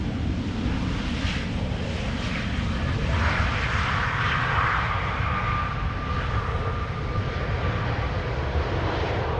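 KLM flight 1740 airliner at Amsterdam Schiphol Airport, a steady broad engine roar that holds fairly loud throughout, with a faint rising whine partway through and no talk.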